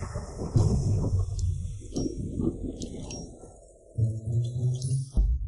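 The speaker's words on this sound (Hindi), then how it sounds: "अभी बाहर बिजली कड़की थी, मुझे डर लगा।" Thunder rumbling low and steady through heavy rain outdoors, with a deeper roll swelling near the end and faint clinking bits along the top.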